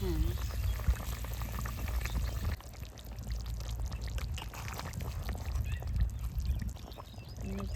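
Pieces of pangas fish going into a pan of simmering vegetable curry, giving a steady loud sizzle and bubbling throughout with no talk.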